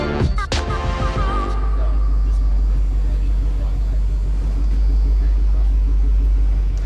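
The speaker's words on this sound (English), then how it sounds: "We're just warming the car up" A Ford Mustang drag car warming up between passes at a drag racing event gives a loud, steady, close engine drone, with a brief sharper burst of noise at the start.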